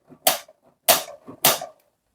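Three sharp, loud knocks sound as a Marvel Legends J. Jonah Jameson action figure bangs a table, evenly spaced about half a second apart, with small rattles from items on the tabletop in between.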